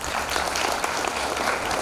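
An audience at an evening anti-drug lecture in Aroeiras applauds a speaker, a dense, steady burst of clapping from many hands filling the hall.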